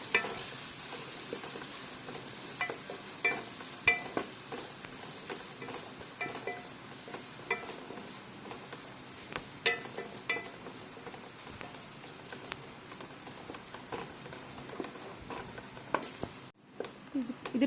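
Crushed spices sauté for a Kerala chicken curry, crackling in hot oil with a steady, dense sizzle and frequent scraping stirs of the spoon against the pan, fairly close and continuous without speech.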